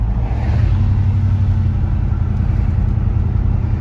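A deep, steady Ford 390 V8 engine rumble in a 1968 Ford fills the whole stretch, droning loudly and continuously as the car cruises, with a low throaty hum and no voices.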